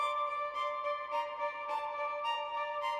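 A calm orchestral string figure repeats steady eighth-note pulses over sustained tones, moderately soft and even, with no voices.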